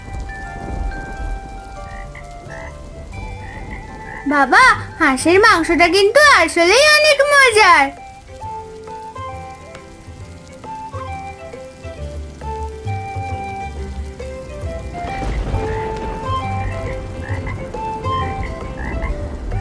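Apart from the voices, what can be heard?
rain falling outside with croaking frogs, cartoon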